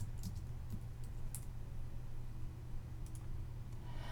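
Computer keyboard being typed on with a few sharp mouse clicks, quiet and close, over a steady low hum in an office setting; brief scattered keystrokes rather than continuous typing.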